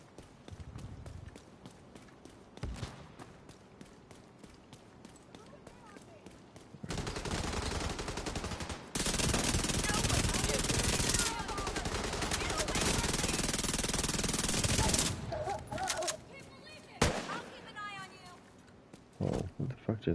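Gunfire with hollow point ammo in The Division 2, scattered single shots giving way to long sustained bursts of automatic fire, loud and close, with a voice talking at points.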